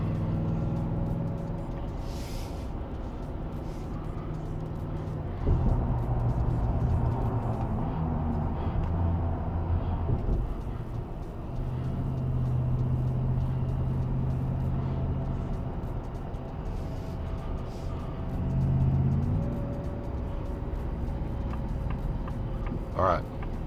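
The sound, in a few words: 2024 Shelby F150 Super Snake truck accelerating to highway merging speed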